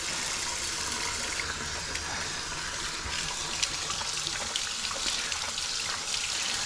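Gloves washed by hand under a running tap, with a steady close rush of water that continues unbroken throughout.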